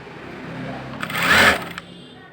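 A sewing machine runs one quick close burst of stitching along a folded blouse edge, about a quarter inch in, rising and stopping within a second amid quiet fabric handling.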